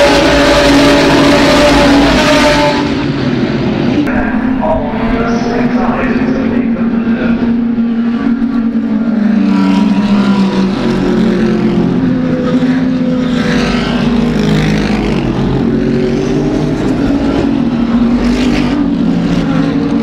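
Race cars at Brands Hatch during a Blancpain race produce a loud, continuous engine roar with rising and falling revs as they lap the circuit, filling the whole stretch without a break.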